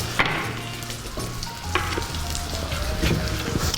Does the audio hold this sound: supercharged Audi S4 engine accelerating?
no